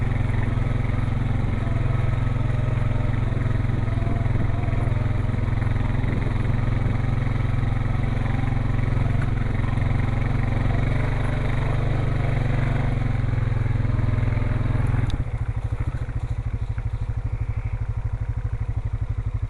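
Steady engine drone of an ATV on an outdoor ride, loud and continuous throughout, with a shift in tone and added rattle near the end.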